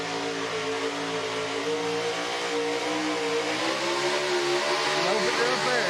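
At a county fair truck and tractor pull, a pulling machine's engine drones loudly and steadily, then revs higher toward the end. People talk over the engine noise nearby.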